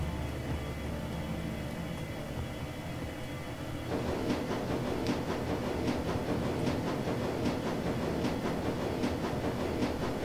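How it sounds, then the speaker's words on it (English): A subway train in the Shadowrun Returns Dragonfall game rumbles steadily toward Brandenburger Tor, a low continuous roll that grows louder partway through, with rhythmic clickety-clack of wheels over rail joints. "the train rumbles its way towards Brandenburger Tor"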